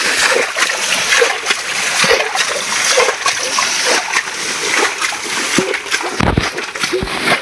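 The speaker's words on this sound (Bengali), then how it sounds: "বিলের সাইডেই একেবারে বাগানের পাশে ছোট্ট ডোবা সেচ করতেছে।" Water from a small pond beside a marsh and garden in a village is bailed out by hand. Loud, close splashes come in a repeating rhythm, with sloshing between throws.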